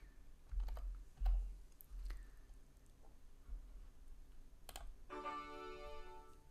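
Quiet typing on a computer keyboard, a loose run of soft clicks and taps with a couple of sharper keystrokes, close and on its own with no talking.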